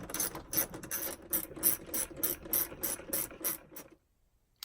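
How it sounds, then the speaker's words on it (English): A hand ratchet tightening a 10mm bolt on a RAM 1500 A-pillar handle, rapid rhythmic clicking in repeated strokes, close and clear, ending abruptly in silence. "I'm gonna go ahead and put those 2 10mm in, tighten it down"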